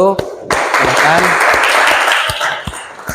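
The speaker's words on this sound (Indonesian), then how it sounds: "kasih tepuk tangan untuk kelompok 1" Classroom audience applauding a student discussion group at a teacher-training assessment, a sharp onset of many hands clapping after a brief voice, sustained and fairly loud before thinning into scattered claps.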